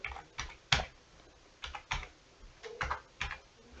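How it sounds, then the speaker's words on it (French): Keys tapped on a computer keyboard while entering an email address and password, in short irregular bursts of distinct clicks, close and fairly quiet, with no voices. "Je tape une adresse mail, je tape le mot de passe"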